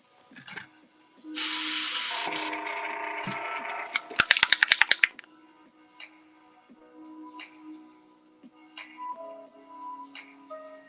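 Aerosol spray paint released in a loud, hissing burst of about a second during live painting, followed by a quick run of sharp clicks and scattered faint tapping and handling noises.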